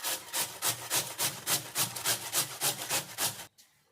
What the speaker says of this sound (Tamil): ஒரு கிழங்கு துருவி எடுத்தாச்சு